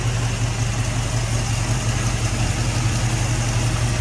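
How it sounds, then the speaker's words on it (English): Engine of a restored 1981 vehicle idling smoothly, a steady low hum with a constant rumbling drone and faint vibration, close and unbroken for the whole stretch with no talk. "It's a real smooth running engine."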